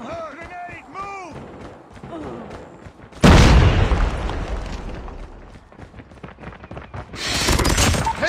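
A loud, close grenade blast in a first-person shooter game, a sudden heavy boom with a long rumbling tail, followed by another burst of noise; voices of game characters speak before it.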